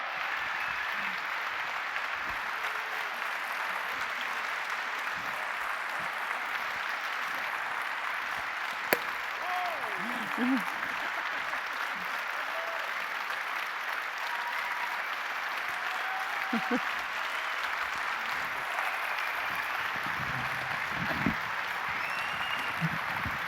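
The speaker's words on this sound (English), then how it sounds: "So give this awesome team an applause." An audience applauds the EVE Online team on stage at a fanfest keynote with steady, sustained clapping from a large indoor crowd, continuous for the whole stretch with occasional louder bursts.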